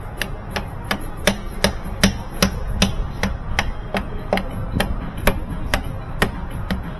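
Steady tapping on a transmission part during a lock-up duty solenoid repair, a regular series of about twenty sharp light metallic taps, close and even, over faint background noise.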